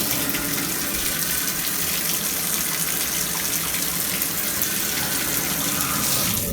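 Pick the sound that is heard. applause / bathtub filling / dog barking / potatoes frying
bathtub filling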